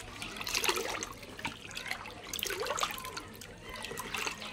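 Dewormer medicine being stirred into about 10 litres of water for pigeons, a soft steady swishing and trickling of liquid that comes in a few slow surges, close and moderately quiet, with no talk.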